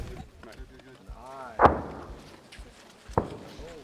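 An 81 mm mortar fires twice during an intensive Canadian military training exercise, each shot a sharp, heavy boom about a second and a half apart, with voices murmuring in the background.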